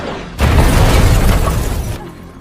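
A loud explosion blows up a monster in a film, a sudden broad blast that roars for about a second and a half before cutting off.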